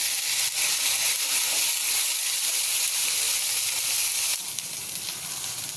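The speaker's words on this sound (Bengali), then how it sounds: "মশলাটা ভাজা ভাজা হয়ে গেছে" Ginger, garlic and cumin masala paste frying with chicken and browned onions in a hot pan, giving a loud, steady, close sizzle that keeps on without a break and softens slightly near the end.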